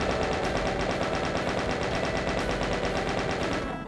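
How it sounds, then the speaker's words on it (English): A chain gun in the Voxel Doom 2 video game fires a continuous, loud stream of rapid shots for nearly four seconds, with no talk over it. "Let's actually chain gun you."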